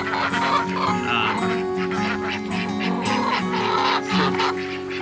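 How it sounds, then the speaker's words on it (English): Several ducks quacking near each other outdoors, a busy overlapping chorus of honking calls that runs continuously at moderate loudness and close range. "the ducks out here"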